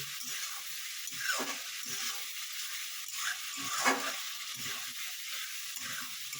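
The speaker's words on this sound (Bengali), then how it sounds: "দেখুন আমার আলুটা একেবারে কষানো হয়ে গেছে।" Potatoes frying in a pan for a brinjal-potato curry, a soft continuous sizzle broken by periodic scraping stirs of a spoon, close and fairly quiet with no speech.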